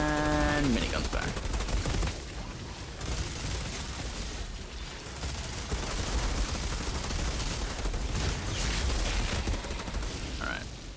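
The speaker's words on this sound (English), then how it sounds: "And minigun's back." Minigun fire in the video game Outriders, a dense, continuous rattle of rapid shots that runs loud and steady for nearly the whole stretch with little pause, with a brief tonal chime at the very start.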